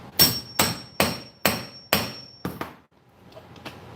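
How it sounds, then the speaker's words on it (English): A hammer strikes a metal piece in a shop: five sharp, ringing blows at an even pace, then two quicker taps and a faint clink. The hits are loud and close, with no talking. "I'm going to be hitting this thing with a hammer."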